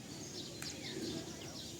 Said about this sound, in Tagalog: Daming ibon sa taas